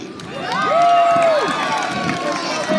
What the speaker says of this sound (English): Let's hoot it up for Strawberry!